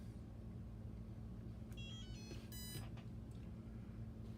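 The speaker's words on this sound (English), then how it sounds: "And our ESC has beeped, indicating that it is armed" A brushless ESC on a radio-controlled power system gives a few short, faint electronic beeps over a steady low background hum once the flight battery is connected and it arms.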